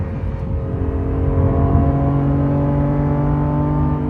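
A powerful supercar engine drones steadily and loudly from inside the car, a sustained rumbling tone holding high revs around 6,000 RPM without pause.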